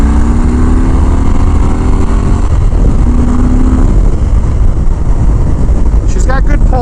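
A Harley-Davidson Fat Bob motorcycle pulls away from a rolling start in second gear, its engine rising in pitch under heavy wind rush on a ride-along, loud and close throughout.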